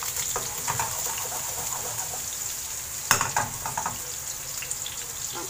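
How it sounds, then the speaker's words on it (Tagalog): Garlic sautéing in olive oil for a spicy egg scramble gives a steady close sizzle with scattered scraping and stirring clicks, and a sharper burst of crackle midway. "Gigisa tayo ng bawang"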